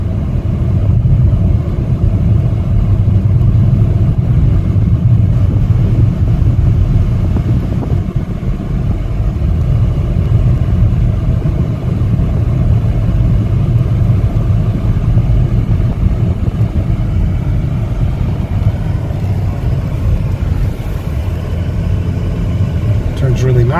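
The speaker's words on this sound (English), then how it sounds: "That's going to conclude our test drive." Heard from inside a 2015 Chevrolet Malibu LS on a test drive, a steady low engine and road rumble runs unbroken throughout, loud and close.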